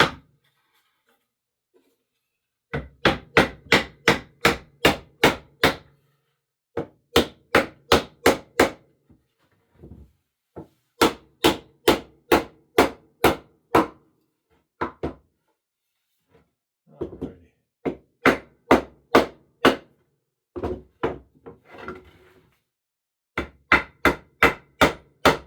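Repeated hammer taps fix a wooden cutting board piece into place during restoration of a 100-year-old board. The blows come in quick bursts of sharp knocks, close and loud, with short pauses between the runs.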